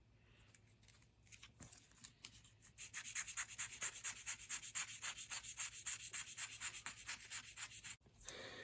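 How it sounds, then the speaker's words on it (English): Rhythmic sanding strokes rub back and forth on a hard plastic 1:1000 Enterprise model, steady and close, with a brief pause near the end. "You'll just need some good sanding."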